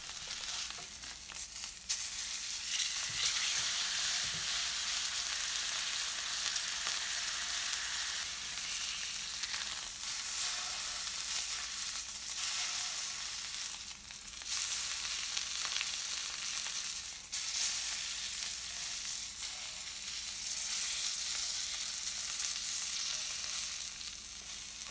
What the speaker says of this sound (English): Now you're going to add the steak to the pan and you're going to sear the steak for 1 minute on each side